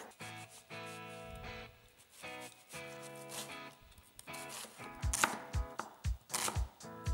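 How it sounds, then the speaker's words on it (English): A knife chops an onion on a board, with several sharp, close thuds near the end over a soft background of music-like tones. "so first of all, let's chop our onion."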